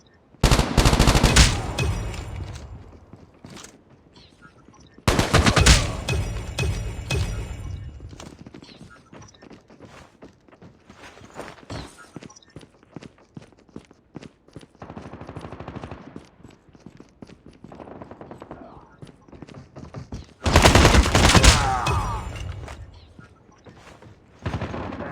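In a shooter video game, loud bursts of gunfire break out at the start, around five seconds and near twenty-one seconds. Between them come lighter scattered shots and clicks.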